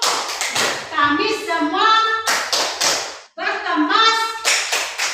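Children and a teacher clap out a rhythmic hand-clapping game, sharp claps in quick patterned bursts alternating with sung and chanted lines.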